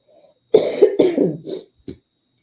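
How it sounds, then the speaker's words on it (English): A close, loud burst of several coughs in quick succession, followed by a short final cough after a brief pause. "I always have to cough when I'm talking so much"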